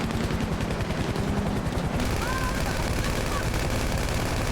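Rapid automatic gunfire from GTA Online rattles on continuously for a couple of seconds, followed by dense in-game action noise and sustained shooting at a target.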